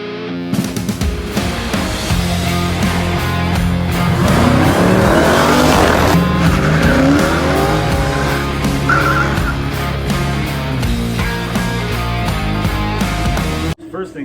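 The exhaust of a classic 1960s-style Dodge Charger with a 440 engine blares loudly and close, revving hard with a rising and settling roar and a sustained heavy drone, with brief voice at the end.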